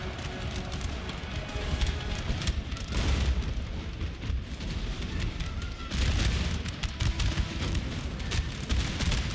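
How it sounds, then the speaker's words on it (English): Cannon shots and explosions boom through a dense video game battle, a continuous heavy rumble with rolling blasts and crackling gunfire layered throughout, loud and unbroken. "that cannon shot through the center, just wrecking them"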